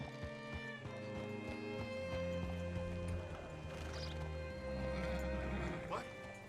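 Horse hooves clip-clop in a steady rhythm in the video game Red Dead Redemption 2, fairly quiet, over a low humming background with faint ambient clatter.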